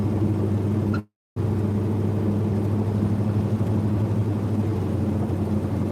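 Rebuilt 700 transmission vehicle cruising in second gear at about 25, a steady low engine drone and road rumble inside the cab, briefly cut to silence near the start, then continuing evenly.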